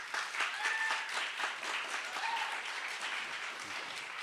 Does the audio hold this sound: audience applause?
yes